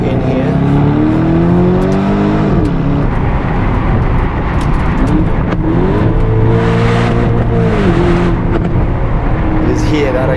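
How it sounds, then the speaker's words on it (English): The V8 exhaust of an Aston Martin DBX in Sport Plus mode rises and falls through gear changes, then gurgles and crackles on lift-off. Engine note is loud and close throughout, with rising revs dropping away twice. "Just hear that exhaust gurgling and spitting along."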